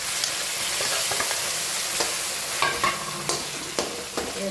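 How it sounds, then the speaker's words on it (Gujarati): Dhokla pieces stirred into a sizzling sesame-seed tempering in a home kitchen pan, a steady frying hiss under scattered scraping clicks and sharper spoon knocks, close and moderately loud. "હવે ઢોકળા એડ કરી દઈશું."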